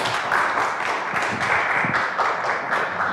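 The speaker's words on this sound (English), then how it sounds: "Big round of applause if you enjoyed the music and the poem." A crowd applauds steadily, many hands clapping together in a sustained, fairly loud wash of sound with no break.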